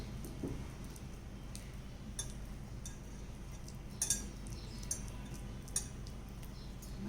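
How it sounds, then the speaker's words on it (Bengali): A knife slices small bananas on a cutting surface, making faint, sparse ticking taps at irregular intervals over quiet room noise, with no voices. "কলা কাটা শেষ"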